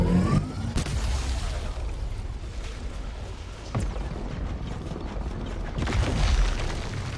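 Turrets firing and exploding in the video game Returnal, a series of deep booms and blasts over a rumbling background, with no voices.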